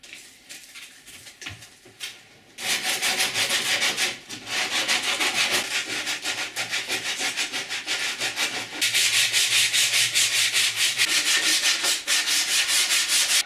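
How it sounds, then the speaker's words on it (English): Steady, loud abrasive rubbing of sandpaper across damaged plywood on a Rock-Ola jukebox cabinet, with a short quieter stretch at the start before continuous close sanding. "I'll have to see if I can sand this out."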